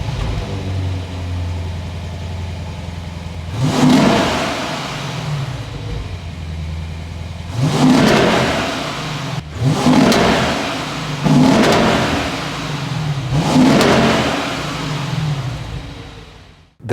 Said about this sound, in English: They just don't make V8s like this anymore.